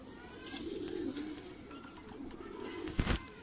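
Soft, low cooing of Madrasi pigeons close by, droning on steadily, with a brief louder flutter or knock near the end.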